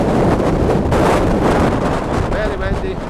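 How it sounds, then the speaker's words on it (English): Strong wind on a hilltop on the Isle of Arran roars and buffets against the microphone in a constant heavy rush, with a faint voice partly buried beneath it. "It'll be windy. I'll be facing the wind here."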